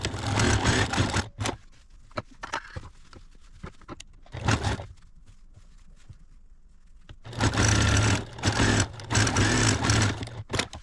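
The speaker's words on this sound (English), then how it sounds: "Then sew the remainder of the bottom" A sewing machine stitches bias tape along the bottom of a fabric jewelry roll, running in several loud bursts separated by quiet pauses and faint handling noises.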